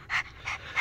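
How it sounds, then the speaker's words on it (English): A hyper Yorkshire terrier pants rapidly and close up, three quick breathy huffs in a steady rhythm with no talk over them. "This dog is so hyper."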